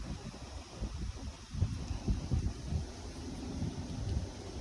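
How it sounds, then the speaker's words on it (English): Wind rising outdoors ahead of a storm buffets the microphone in a low, steady rumble with small gusty surges, and no one speaks. "And the winds are starting to pick up."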